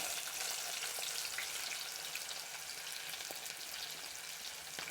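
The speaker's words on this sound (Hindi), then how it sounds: "हमारा ऑयल गर्म हो चुका है। अभी इसमें हम प्याज शामिल करते हैं।" Chopped onion hitting hot oil in a pan for a mixed green sabzi with potatoes, giving a dense, even sizzle that holds steady and close throughout, with no voices.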